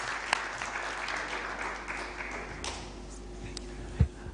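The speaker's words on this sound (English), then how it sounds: "let's also give the incoming panelists a round of applause" Audience clapping for incoming panelists at a diaspora homecoming convention, a moderate, sustained round of applause with a few sharper taps and knocks standing out, fairly faint and steady across the hall.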